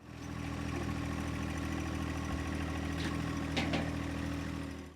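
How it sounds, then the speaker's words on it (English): A Ferris ISX3300 zero-turn mower with a 40 horsepower Vanguard EFI fuel-injected engine and 72-inch deck idles steadily, a loud, even mechanical hum with a couple of brief clanks partway through. "ISX3300 has the 40 horsepower Vanguard EFI fuel-injected engine"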